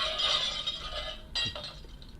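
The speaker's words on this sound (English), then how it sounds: "Let's give her a broken glass." Breaking glass sound effect: a bright burst of shattering glass followed by a few tinkling, clinking fragments, brief and fairly close, with no voices.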